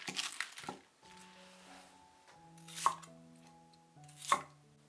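A knife chops bok choy into chunks on a cutting board, a few distinct sharp chops spaced apart with short gaps between, close and clear, no talking.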